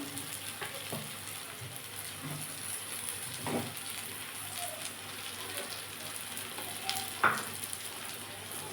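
Fried prawns sizzling in a kadai, a low, steady frying hiss with occasional faint clinks and pops, no talking.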